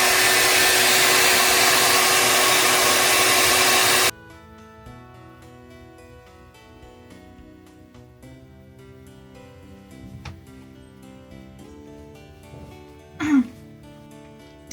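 A hair dryer running loud and steady for about four seconds, then cutting off abruptly, leaving quieter background with a brief bump later.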